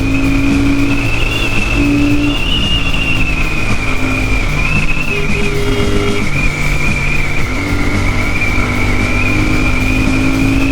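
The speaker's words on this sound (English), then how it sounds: "First gear, second gear 90" A Royal Enfield Super Meteor 650 motorcycle accelerating hard through its gears on an open road, a loud, continuous engine drone rising in pitch, steady and close throughout with rushing wind noise underneath.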